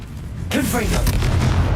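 A single Confringo explosive spell from Hogwarts Legacy lands with a sudden loud boom halfway through, its rumble and crackle lingering under a shouted voice.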